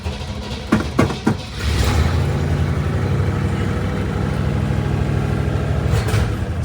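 A 1958 Chevrolet Corvette engine turns over and settles into a steady, rumbling idle close by, after a few short cranking bursts.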